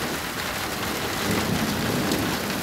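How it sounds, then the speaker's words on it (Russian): Dense outdoor storm ambience with heavy rain hiss and a low, rolling rumble of thunder swelling slightly midway; no voices. "вышел на улицу, чтобы гром было слышно."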